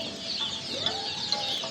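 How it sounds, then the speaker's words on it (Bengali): Jinding ducklings at a poultry market peep continuously in a dense, high-pitched chorus, with a few louder chirps standing out over the steady chatter. "এটা হচ্ছে জিন্ডিং হাঁসের বাচ্চা।"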